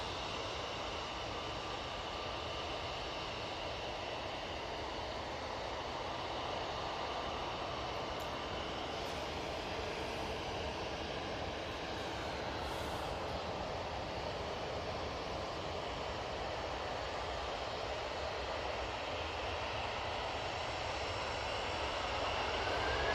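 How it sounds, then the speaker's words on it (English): An Aer Lingus airliner with CF6 engines lands at Manchester Airport after a flight from Orlando, its broadband jet roar steady and close for over twenty seconds and swelling slightly at the end, with no voices. "Those CF6s sounded so good"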